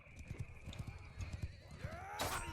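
Horse hooves clip-clop in a rapid galloping rhythm in Mount and Blade Bannerlord during a cavalry charge, ending in a loud neigh, with a voice faintly underneath.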